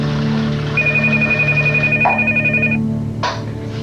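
A telephone rings in a home in a 1994 French television drama, a loud, steady electronic trill lasting a couple of seconds before it cuts off.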